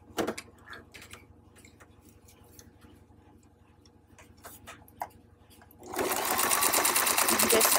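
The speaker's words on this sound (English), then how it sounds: "I'm just gonna sew on the outer edge." Sewing machine stitching along the outer edge of crepe paper and ribbon. A few scattered ticks and clicks come first, then the machine starts up loud and close with a fast, steady whir for the last couple of seconds.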